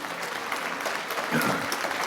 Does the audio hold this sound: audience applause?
yes